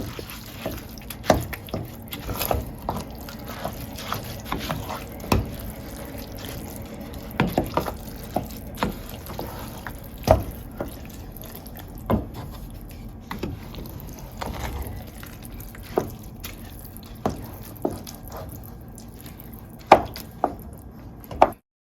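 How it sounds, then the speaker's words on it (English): Rice frying in a pot for Nigerian jollof rice: a steady, soft crackle with scattered sharp pops and clicks, close and fairly quiet, with no talking. "So now we're gonna allow the rice to fry for about 5 to 6 minutes."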